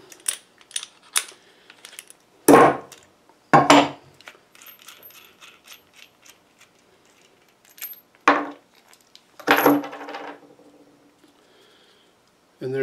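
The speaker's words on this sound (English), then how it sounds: "Take that nut and bolt out of there." Small metal clinks and clatters as a nut and bolt are removed from a string trimmer spool, several sharp isolated taps and rattles close by with quiet gaps between.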